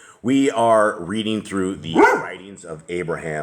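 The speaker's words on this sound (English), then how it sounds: "That is a dog" A dog barks several times close by, loud sharp barks with whimpery tones, heard alongside someone speaking.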